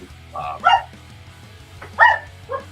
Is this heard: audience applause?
no